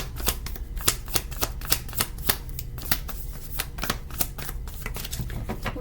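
Tarot cards being shuffled in a steady run of crisp riffling flicks and slaps, close and fairly loud, with no talking.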